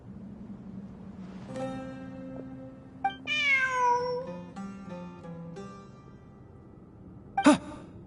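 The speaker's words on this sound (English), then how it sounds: "Look! A cat!" A cat in the video game Genshin Impact meows softly over a low ambient hum, one clear meow in the middle, followed by fainter mewing and a short sharp sound near the end.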